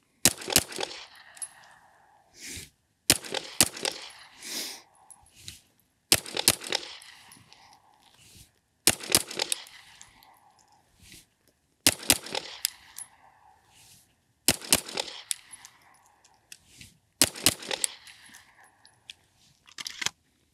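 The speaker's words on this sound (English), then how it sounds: "what we did with a vertical transition, establish my cadence with 2 shots on a single point of the target" Pistol shots fired at a target during a vertical transition shooting drill, heard as repeated quick bursts of sharp cracks at a steady cadence, separated by short pauses, loud and close with no talking.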